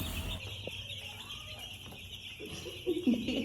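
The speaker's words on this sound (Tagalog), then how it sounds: "Diba, ang daming manok." Chickens cluck softly at a distance over a steady hiss, with a louder burst of clucking toward the end.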